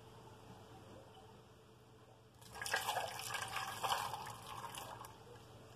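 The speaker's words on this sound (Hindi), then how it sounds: "अब इसके अंदर मैं सिर्फ 1 कप जो है वो पानी का डालूंगी।" One cup of water is poured into a cooking pot while sweet potato chaat is prepared. A steady splashing rush starts a few seconds in and runs for about three seconds, then fades.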